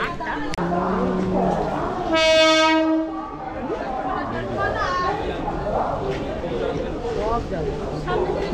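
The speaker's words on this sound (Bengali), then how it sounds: "এই হচ্ছে আমাদের দীঘা ট্রেন।" A Digha local train passes with a continuous rumble and rattle, a single long horn blast sounding near the start, while people chatter nearby on the platform.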